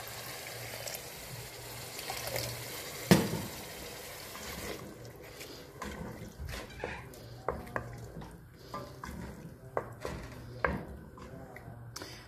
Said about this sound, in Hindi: अब इस पॉइंट पे हम इसके अंदर थोड़ा सा पानी शामिल करेंगे ताकि कीमा गल जाए।